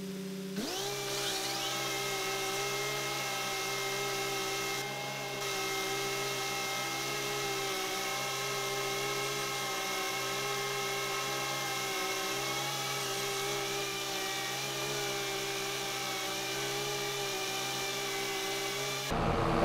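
In Farming Simulator 22, a mowing machine works a field with a constant, droning mechanical whine and hum that holds steady for the whole stretch with no talking.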